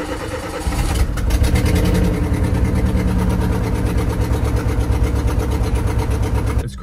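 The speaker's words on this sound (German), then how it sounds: "Ich wollte hier nochmal genauer zeigen, wie sich das Auto anhört." Car engine running steadily at idle, close and loud, a cheap budget car, with a continuous low rumble and a faint throb of revs throughout.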